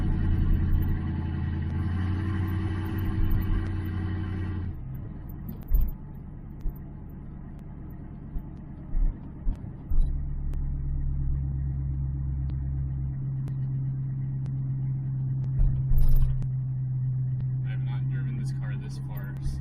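A Ford Fairmont with freshly swapped GT40P cylinder heads idles steadily and close by, a low constant rumble that runs through the whole stretch, broken by a few brief knocks and clicks.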